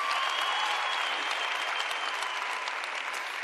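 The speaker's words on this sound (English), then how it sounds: "please give them a round of applause." Audience at a university townhall networking session applauds, a dense, even wash of many hands clapping that holds steady at full strength throughout.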